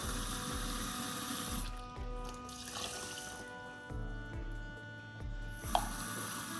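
Water poured by the cupful onto rice in a pot while making egg fried rice, a close splashing trickle that starts and stops in a few separate pours.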